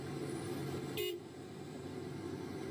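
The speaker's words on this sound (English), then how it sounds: "Homie's trying to honk the horn." A single short car horn toot rings out over a steady low rumble of heavy traffic, moderately distant.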